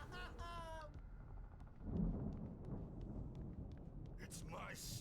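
Storm ambience from the game Alan Wake Remastered, a low thunder rumble swelling near the middle over steady rain-like noise, quiet and distant, with brief voice-like and tonal game sounds at the start and end.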